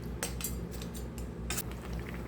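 A utensil scrapes and clinks against a cooking pot while crab gravy is stirred, a few quick close metallic strokes over a low simmering background.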